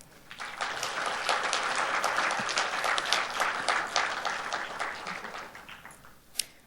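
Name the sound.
audience applause at a conference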